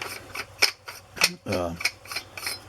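Close ratcheting clicks and grinding threads repeat in a regular rhythm as the metal pommel of an Ultrasabers Omen lightsaber is twisted off, with no voices.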